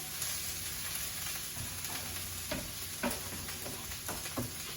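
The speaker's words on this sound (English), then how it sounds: "now I'm going to put the garlic in" Garlic sizzles in a hot pan for broccoli chickpea pasta, a steady close frying hiss with scattered soft scrapes and taps from stirring.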